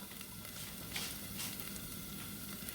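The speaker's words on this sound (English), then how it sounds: "Now let's get our rice down in there and toast it a little bit." Rice toasting in a hot pan with onions and vegetables for arroz con pollo, a steady close sizzle and crackle with faint stirring scrapes, no talk.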